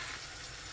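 Tomato puree frying in oil in a pan for mushroom risotto, a brief, steady hiss of sizzling heard close up without talk.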